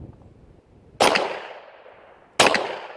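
A Glock pistol fitted with a long slide fires two sharp, loud shots about 1.4 seconds apart at a 10-inch target disc, each crack ringing out and decaying in an outdoor echo.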